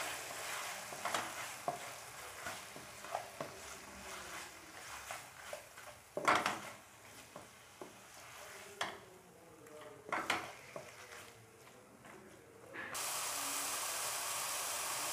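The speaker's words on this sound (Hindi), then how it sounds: "अब हम इसमें चिकन डालेंगे बोनलेस, इसको पकाएंगे अब हम इसमें।" Boneless chicken pieces cooking in a pan for chicken macaroni: a quiet, continuous sizzle with occasional stirring knocks, swelling into a louder steady hiss for the final couple of seconds, without talk.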